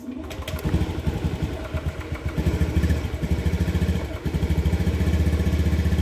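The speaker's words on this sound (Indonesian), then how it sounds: "Saya akan coba starter ya." A motorcycle engine starts and settles into a close, steady running idle with a rapid pulsing rhythm that firms up and grows slightly louder toward the end.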